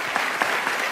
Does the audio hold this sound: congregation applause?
yes